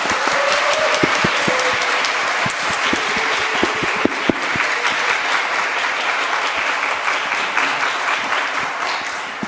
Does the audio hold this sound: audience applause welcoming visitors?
yes